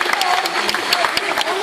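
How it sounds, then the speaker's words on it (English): An audience at a bird show in Jurong Bird Park, Singapore, gives scattered, brisk applause with crowd voices mixed in. "a round of applause for these two birds and their trainers"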